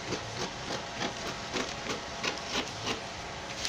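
Scissors cutting out a fabric sleeve pattern, making a steady series of short snipping and rubbing strokes, close and fairly quiet, with no talk.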